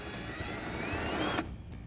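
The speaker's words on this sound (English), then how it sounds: "Using a 1/4-inch drill bit, we're going to drill into the fender flare" A power drill with a 1/4-inch bit bores a hole into the lip of a plastic fender flare, a steady whining buzz for about a second and a half that stops abruptly.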